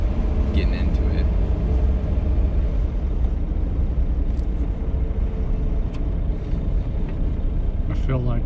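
1954 Ford Customline with a three-speed column shift accelerating, a steady low engine rumble and road noise heard from inside the car, with people talking over it throughout.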